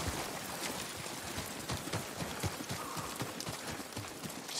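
Horse hooves clip-clop steadily on open ground in the Ghost of Tsushima video game, a continuous run of close, fairly loud hoofbeats with no voices.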